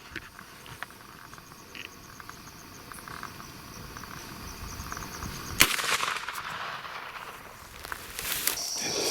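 A single sharp .44 gunshot fired at a wild boar during a hog hunt cracks out at mid-distance over a steady chorus of chirping crickets, followed by a fainter second report.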